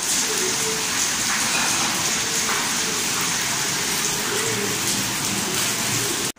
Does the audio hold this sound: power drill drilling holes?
no